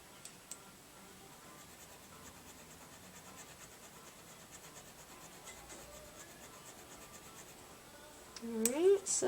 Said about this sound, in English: I'm just going to do a little scraping on the edge here.